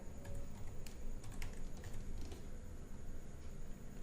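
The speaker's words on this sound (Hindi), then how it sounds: "हम लोग टाइप करेंगे नोटपैड" Computer keyboard typing, with quick irregular clicks of keys in short bursts during the first half and then fading, quiet and close against a steady background hum.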